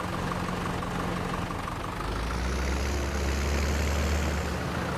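A Hurlimann H488 tractor engine in a farming game mod runs steadily with a deep idle drone that thickens and grows louder partway through, alone without speech.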